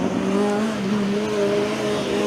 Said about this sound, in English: Sounds like TU Dortmund has got the car refired in the meantime